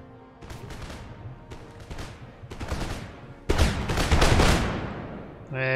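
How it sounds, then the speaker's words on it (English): Close-range musket volleys from line infantry in an Empire: Total War battle: several loud, ragged crackling bursts in quick succession, the last and heaviest volley rolling on into a dense roar. "Close quarters volley on the flank."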